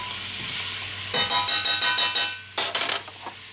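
Shrimp for shrimp scampi cook in a pan under a soft steady sizzle, interrupted by a quick series of sharp utensil scrapes and taps against the pan, close and fairly quiet, with no talk.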